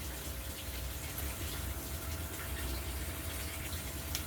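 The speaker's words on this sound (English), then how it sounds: "I'm going to moist the soil with my worm tea" Worm tea poured steadily onto potting soil for a citrus planting, a continuous soft wet gush and trickle running close and unbroken throughout.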